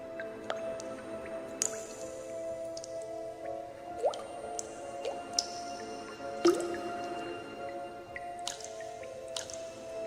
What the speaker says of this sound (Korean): 이번에는 물방울이 떨어지는 소리가 더 선명하고 가깝게 들려왔습니다.